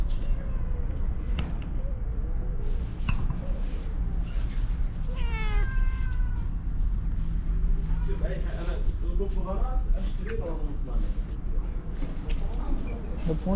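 Cats meow in a pet shop in Riyadh, several short rising meows standing out against a busy, noisy room with people talking.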